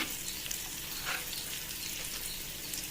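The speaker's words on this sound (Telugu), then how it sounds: "ఆనియన్స్ వేగాలి." Onions frying in hot oil with curry leaves, turmeric and salt: a soft, steady sizzle with faint crackle and a brief stir midway, fairly quiet and alone.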